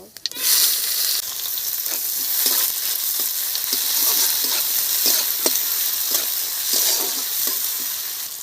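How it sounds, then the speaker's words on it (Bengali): Cumin and onions fry in hot oil, a loud continuous sizzle with a steady hiss running throughout, punctuated by soft periodic scrapes of a stirring spoon in the pan. "তেল গরম হয়ে গেছে জিরে ফোড়নে দিচ্ছি পেঁয়াজ দিয়ে দেব"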